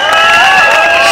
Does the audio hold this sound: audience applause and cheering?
yes